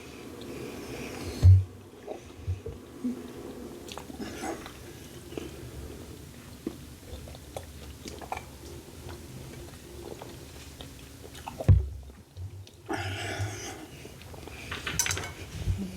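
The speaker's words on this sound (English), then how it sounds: "Oh, you're still chewing." Someone chews Little Caesars bacon and cheese crazy puffs, with soft, wet mastication and occasional clinks and clatters of utensils or packaging, a sharp thump near the start and another in the middle.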